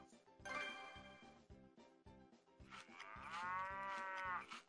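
A cartoon cow moos in a long, drawn-out call that swells loud in the second half, over a steady rhythmic backing track, with a brief higher vocal sound near the start.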